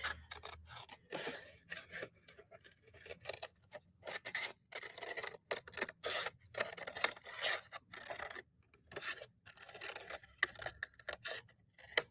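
Quiet, close-up snipping and rasping of scissors cutting through paper in short repeated bursts, with no talking.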